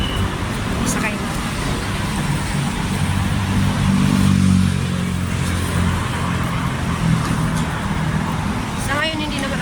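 Inside a bus moving through city traffic, a continuous engine and road rumble swells briefly as vehicles pass, with a light horn-like chirp near the end and some voices under the noise.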